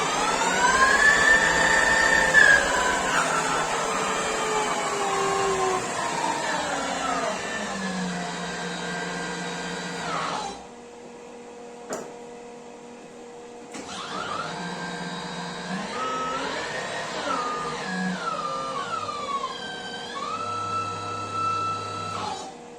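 A Microweily TY2500 lathe runs with a steady motor whine that ramps and shifts in pitch, falls silent for a few seconds, then starts up again with rising and settling tones.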